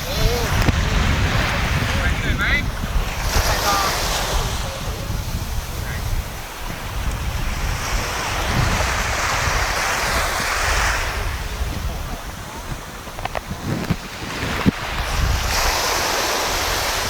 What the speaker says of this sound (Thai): น้ำใสนะครับคลื่นดี